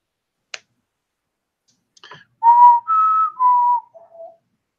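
A person whistles a short tune alone, a few sustained melodic notes stepping downward after a couple of faint clicks, close and clear with no talking.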